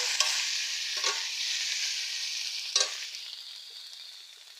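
Diced boiled potatoes go into a hot frying pan, raising a loud, close sizzle broken by a few quick stirring scrapes and clatters that fades gradually toward the end.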